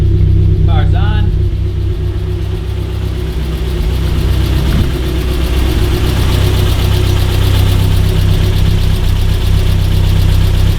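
A 2.5-litre NC Mazda Miata engine idles steadily with a low, even rumble and faint mechanical ticking, loud and close throughout.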